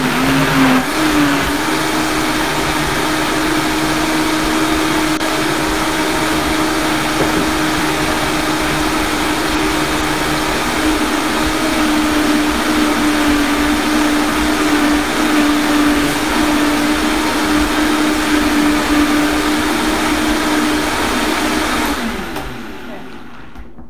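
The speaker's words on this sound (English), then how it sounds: "this is a high-speed blender called a Vitamix" A Vitamix high-speed blender whirs loudly and steadily, blending carrot soup with a constant roaring drone for about twenty seconds before cutting off near the end.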